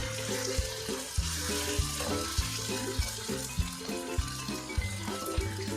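Chicken and tomatoes sizzle steadily in a pan for a karela gosht dish, a constant close frying hiss over a rhythmic low beat that sounds like background music.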